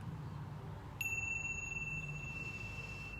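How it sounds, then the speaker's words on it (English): One small bell is struck once and rings with a clear bright tone that sustains and slowly fades over a quiet room background. "These little bells always sound so amazing."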